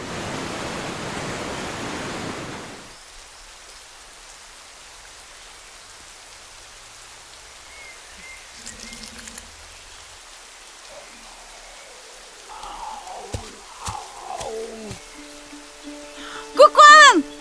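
A healing rain falls onto the forest as a dense, steady hiss for the first few seconds, then cuts off and leaves near silence broken by faint tones and scattered chiming sounds.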